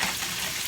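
Sausages and bacon fry in a hot pan, a brief steady hiss of sizzling grease heard up close with no other sounds.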